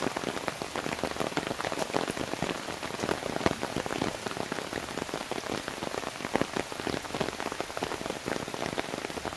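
Steady rain falls and patters on surfaces around a Montmartre café, a dense, even hiss of drops that continues throughout with no talk.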